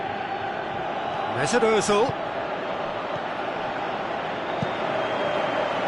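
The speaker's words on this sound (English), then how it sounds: "you can hear how the crowd are reacting to this too." A stadium crowd roars as a steady, distant wash of noise in a PS4 football video game, running under a commentator's voice throughout.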